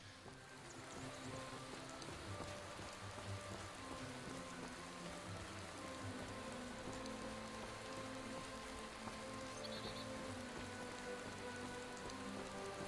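Steady rain pours throughout in the Skyrim game world, a dense continuous patter and hiss that holds at an even level without letup, with no talking over it.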